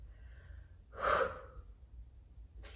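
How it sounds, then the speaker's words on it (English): A single deep, sharp inhale during a dumbbell HIIT home workout, close and clear against near silence, followed by a brief start of another breath at the end. "Inhale."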